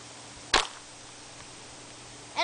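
A slingshot pellet smacks into a mask with one sharp, loud crack, followed by quiet, then a second impact begins right at the end.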